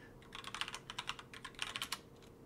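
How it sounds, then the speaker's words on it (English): Soft, quick keystrokes come from a nearby computer keyboard in an irregular patter of taps over a quiet room. "probably type in a password"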